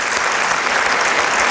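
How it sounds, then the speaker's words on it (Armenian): Warm, sustained applause from a stand-up comedy audience fills the room, a thick even roar of many clapping hands holding at constant loudness throughout. "եկեք մենք էլ մի հատ մեր երիտասարդներին շատ ջերմ ծափահարենք"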